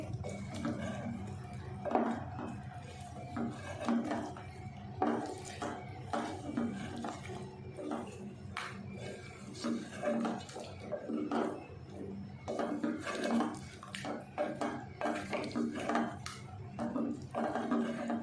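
Fresh cream being stirred into chicken white korma in a pot, with soft, irregular scraping and clinking of a spoon against the pan and a wet, faint squelch, quiet and steady throughout with no one talking.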